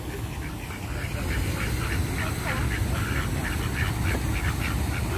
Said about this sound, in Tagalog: Ayan po yung mga wild duck